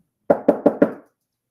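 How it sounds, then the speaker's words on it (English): Four firm, evenly spaced knocks on a door sound in quick succession, close and loud, then stop into silence. "There's a knock at the door."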